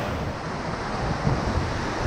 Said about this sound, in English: Big splash, don't tumble out.